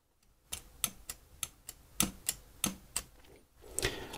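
Typing on a computer keyboard connected to a serial terminal for a cheap smartwatch: about ten sharp, distinct key clacks at an uneven pace, close and fairly faint, in an otherwise quiet room.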